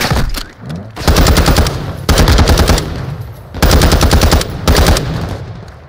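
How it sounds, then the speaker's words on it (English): Gunfire in the Call of Duty DMZ video game: loud, rapid automatic bursts in four separate volleys, each lasting about a second, with brief lulls between them and no talk. "is that you shooting?"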